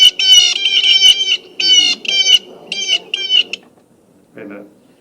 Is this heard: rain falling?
no